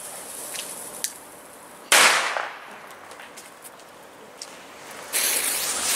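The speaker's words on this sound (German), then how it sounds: "Blizzard-Knaller." A Blizzard-Knaller firecracker exploding: a couple of small pops, then one loud sharp bang followed by a fizzing hiss, a faint pop, and another burst of crackling hiss near the end.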